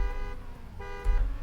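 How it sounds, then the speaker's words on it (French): Car horns in the racing game Trackmania blare in two long overlapping toots, with a short gap between them and a louder bump near the end, close and prominent. "Alors que ça klaxonne et Gabouille. Je crois qu'il faudrait interdire les klaxons dans Trackmania"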